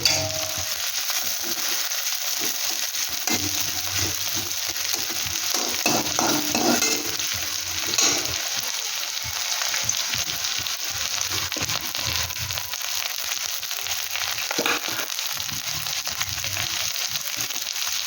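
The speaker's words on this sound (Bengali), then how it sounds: "কিন্তু পেঁয়াজটা এবার আমি একটু ভালো করে ভেজে নেব।" Onion fries in a pan for an egg and brinjal bharta: a constant loud sizzle runs throughout, broken by repeated scraping and rustling strokes as it is stirred, with no talk.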